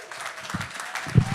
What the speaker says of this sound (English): Big round of applause for Caroline Mclavy.